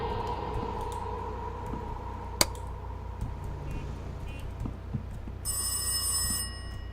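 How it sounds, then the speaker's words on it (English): A telephone rings in the horror video game Rise of Insanity, repeated ring bursts at moderate level with a sharp click partway through and a brighter electronic tone near the end, no voices. "where's the phone even at? I'm tired of this thing ringing."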